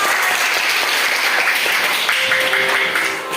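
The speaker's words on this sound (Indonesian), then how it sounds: "Tepuk tangan untuk kita semua." A school class applauds together in a classroom, loud continuous clapping from many children at close range that tapers slightly at the end.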